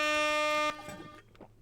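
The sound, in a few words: air horn sound effect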